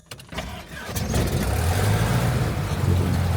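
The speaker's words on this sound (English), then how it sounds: "now we can go ahead and start that engine" A small airplane engine cranks and catches, building quickly into a loud, steady close-up running drone with a low rumble, no talk over it.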